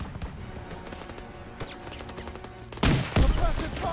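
Gunfire from a World War II shooter game: sparse distant shots and faint rattles build into a loud, dense burst of rifle and machine-gun fire with heavy thuds near the end.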